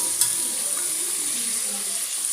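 Broad beans fry in a pan with a steady, close sizzle and crackle. The sizzle holds evenly throughout, with a faint stir near the start.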